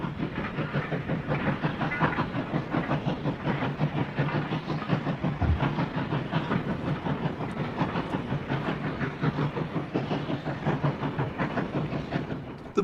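A Bluebell Railway heritage train runs through rural fields and woods, with a steady rumble and rhythmic clickety-clack of wheels on rail joints, plus a soft hiss, heard from on board or close by.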